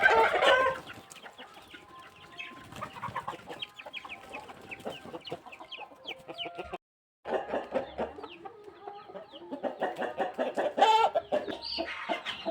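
Chickens and chicks cluck steadily in a rural shed, a loud burst at the start and repeated clucks throughout, with a brief pause midway and no talking.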